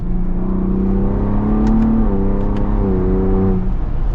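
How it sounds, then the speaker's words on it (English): A 2023 Ford Bronco Raptor engine revs in manual mode, rising and falling in a steady, throaty drone with clear pitch steps as it climbs, loud and close without any talk. "This engine's so responsive. They've got an anti-lag system with this in the Baja mode."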